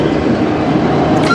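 A CN freight train, probably the 301, rolls past in Sarnia, Ontario, producing a loud, continuous low rumble and rattle of railcars close by, with a brief higher squeal near the end.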